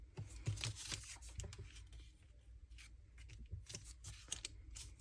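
Scissors trimming book page paper tags at a craft table, a run of quick crisp snips and paper rustles, close and fairly quiet, irregular in rhythm with no talking.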